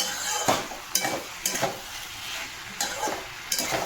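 Vegetable curry being sautéed in a pan, a soft sizzle beneath repeated sharp scrapes of a spatula against the pan at a steady, uneven rhythm, close and alone.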